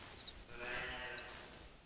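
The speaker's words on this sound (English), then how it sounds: "This is the sound of a female or a doe" A mule deer doe calls in the hunting game theHunter, giving short, bleat-like nasal cries that sit clearly above a quiet outdoor ambience. No one speaks during the call.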